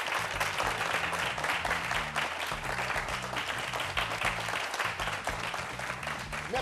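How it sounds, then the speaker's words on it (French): Studio audience applause on a youth talk show, steady clapping from a crowd heard over a looping low musical bassline, moderately loud and continuous throughout. "Merci de vous applaudir très fort."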